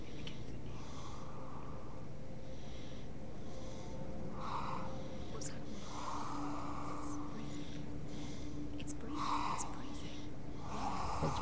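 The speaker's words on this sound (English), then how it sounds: "Breathing." Slow, rhythmic heavy breathing in Hellblade: Senua's Sacrifice, breathy exhales repeating every couple of seconds close up, over a low droning ambient background.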